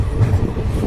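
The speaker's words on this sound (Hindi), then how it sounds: "ट्रेन अराइव हो चुकी है हापुड़ जंक्शन पर" The Nauchandi Express pulls into Hapur Junction on a single electrified track, a steady low rumble of rolling wagons heard close by with no voices.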